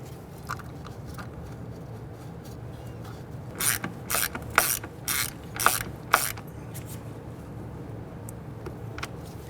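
A hand ratchet tightens bolts on the rear ABS sensor of a 2006-2012 Toyota RAV4, a cluster of sharp clicking bursts near the middle over a quiet garage background.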